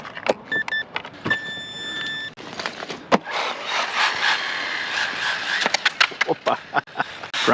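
An Arrma Mojave Grom mini RC car grinds along a rail with a loud, rough scraping rasp, set off by sharp clicks and knocks, a whining motor and a brief beep sequence at the start.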